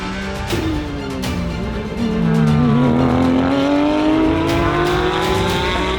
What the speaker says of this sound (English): Opportunity strikes again as Patrick overtakes the 22 for the lead in class